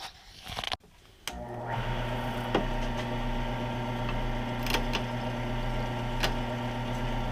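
Wood lathe spinning a pen blank, a steady machine hum with a low motor drone that starts abruptly after a brief pause and runs evenly, with a few faint clicks and no talking.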